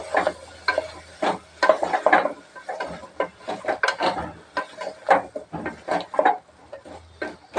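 Taro root (chamagadda) being stirred in a cooking pot, with repeated irregular scraping and knocking of a spoon against the pot, fairly close and moderately loud, with no voices.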